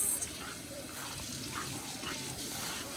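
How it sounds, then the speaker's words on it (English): Warm water pours steadily into a bowl of frybread dough, a continuous, soft splashing gush that holds even from start to finish. "And then we're gonna add some warm water."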